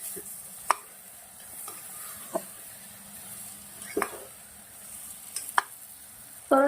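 A spoon stirs a paste with turmeric and salt inside a pressure cooker, making sparse, quiet scrapes and clicks with long soft gaps between strokes.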